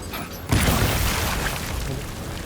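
A grenade explodes in Death Stranding with a sudden close, loud boom after a brief quiet lead-in, followed by a broad rumbling, crackling wash that slowly fades.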